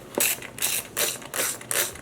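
A spray bottle of vinegar is pumped in five quick, regular squirts, each a close, hissing mechanical burst, with no talking.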